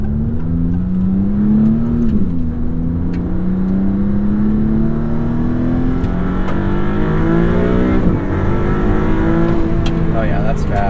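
A 2022 Maserati MC20 accelerating, heard from inside the cabin as a steady engine drone that rises in pitch through the gears, with a shift around the middle, while people talk over it.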